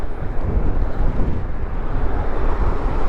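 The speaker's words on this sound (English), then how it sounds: "All you hear is the wind when you're riding this thing." Wind roars steadily across the microphone while riding a NAXEON I AM Pro electric motorcycle with a rear hub motor, a loud, continuous buffeting rush with no motor noise or voices.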